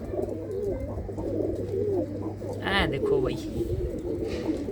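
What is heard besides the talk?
chap breed pigeons cooing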